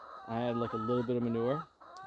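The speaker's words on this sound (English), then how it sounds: "As you can hear the chickens in the background" Chickens on a homestead cluck and squawk nearby in a drawn-out, rising call with a short pause near the end, while a person talks at the same time.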